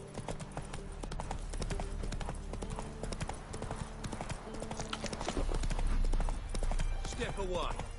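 Roach, a horse in The Witcher 3 video game, trots with steady, even clip-clop hoofbeats that run throughout over a continuous background of game ambience.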